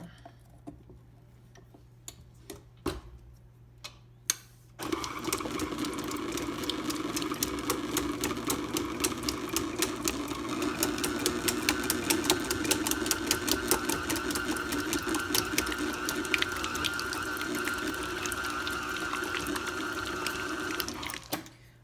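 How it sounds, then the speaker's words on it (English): A stand mixer with a paddle attachment whirs steadily as it breaks up classic New York cheesecake batter, a continuous motor hum with fast rhythmic ticking, preceded by a few sharp clicks and taps in a quiet kitchen. "I'm going to give it a quick whirl with my paddle and just start that mixing up a little bit"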